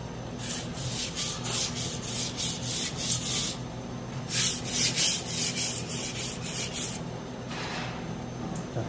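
Kitchen knife being sharpened on a whetstone, repeated rasping strokes in a steady rhythm, close and fairly loud, in two bursts of several strokes separated by a short pause.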